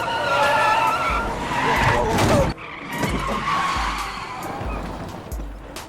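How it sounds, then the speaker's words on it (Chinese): An SUV suffers a tire blowout on a mountain road in a horror film scene: loud, sustained tire skidding and screeching for a couple of seconds, then a sharp cut to quieter rumbling engine and road noise. "在一个风景不怎么优美的山间公路上，一辆 SUV 突然遭遇了爆胎。"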